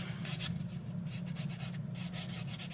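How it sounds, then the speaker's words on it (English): A nail file scrapes steadily across a glitter-coated nail, a soft, close rasping in quick repeated back-and-forth strokes, quiet and alone with no talking. "that's why I'm filing quite a bit"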